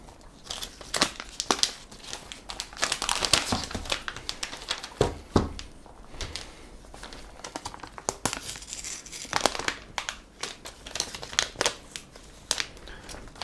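A silver iPhone X 256GB box is unpacked up close, with continual crinkling and rustling of packaging, plastic film tearing and cardboard sliding, in irregular bursts without speech.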